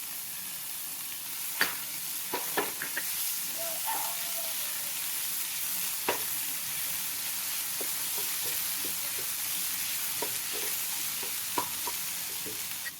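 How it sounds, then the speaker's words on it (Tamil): Chopped onion frying in a pan with a little salt for a Sri Lankan fish sambol: a soft steady sizzle with hiss, punctuated by scattered light clicks and spatula taps, fairly close and quiet. "இந்த ஆனியன் வந்து ஃப்ரை ஆகிறதுக்காக"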